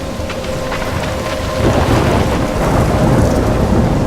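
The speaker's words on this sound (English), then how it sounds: "I'm trapped in a storm?" A thunderstorm in the video game Life Is Strange roars loud and steady, with heavy rain pouring and deep thunder rumbling throughout, and no voices.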